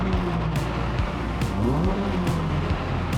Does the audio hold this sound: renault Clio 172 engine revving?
yes